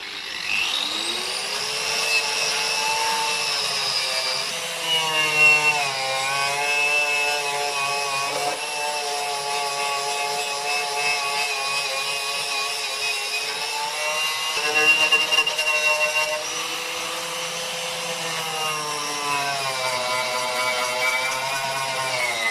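A wire wheel on a power tool scrubs rust off the body of a Lexus IS200, a loud continuous high whine that rises and dips in pitch as pressure changes, running nearly nonstop with brief slowdowns.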